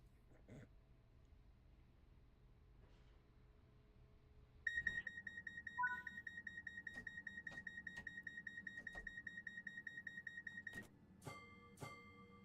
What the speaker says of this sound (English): Get rid of that alarm warning.